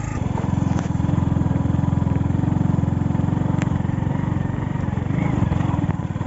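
A motorcycle climbs a winding hill road through a forest area, its engine droning steadily and loudly close by with a continuous low rumble, plus faint wind noise.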